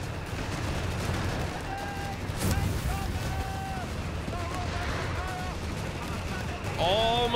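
A high-explosive artillery barrage in a video game booms in dull, broadband bursts, one sharp blast near the middle and another near the end, over a steady rumbling battle bed with voices.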